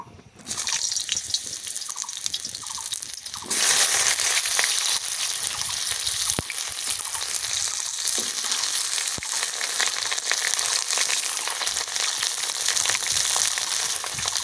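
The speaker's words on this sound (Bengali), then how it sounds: "পটলটা ভাজা করে তুলে রাখবো" Pointed gourd fries in mustard oil in a wok, sizzling and crackling steadily, a loud continuous hiss that swells after a brief quieter start, with occasional sharp pops.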